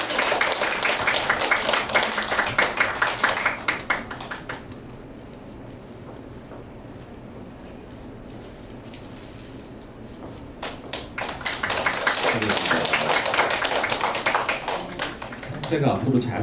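An audience applauds at a Korean traditional music awards ceremony in a small community hall, dense clapping for about four seconds, a lull with quiet room noise, then a second burst of applause that tapers off.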